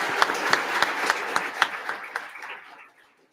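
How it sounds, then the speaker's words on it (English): An audience at a University of Tampa leadership awards night applauds, with sharp individual claps over a crowd patter that thins and fades away over about three seconds. "Please give one final big round of applause to all of our unsung heroes."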